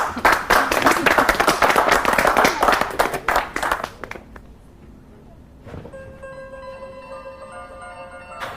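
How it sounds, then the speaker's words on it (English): A round of applause on a trading floor: loud clapping from a group for about four seconds, then it dies away, leaving quieter room sound and a faint electronic tone near the end. "I think we should all give Simon a round of applause off the trading floor."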